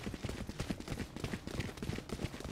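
Sporadic gunfire exchange during a competitive Valorant match, heard as scattered, fairly quiet shots and movement sounds in a busy game mix.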